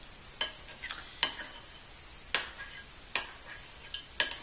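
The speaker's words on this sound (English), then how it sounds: "I'm going to go ahead and stir the wet ingredients well together." Utensil tapping and scraping against a bowl while stirring pancake wet ingredients of milk, butter, eggs and yogurt; sharp, close clicks repeat at a loose, unhurried rhythm over a quiet background.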